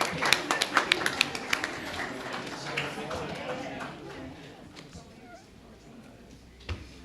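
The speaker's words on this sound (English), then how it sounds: "Give yourselves a round of applause." An indoor audience applauds at a Championing Women in Civil event. A burst of close, crisp clapping fades over a few seconds into scattered claps and quieter room noise.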